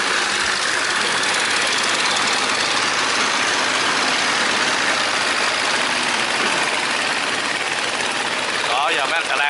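A barge's heavy engine rumbles loud and close as it passes through a sluice gate, a steady diesel drone filling the scene with some rushing noise and a voice briefly audible near the end.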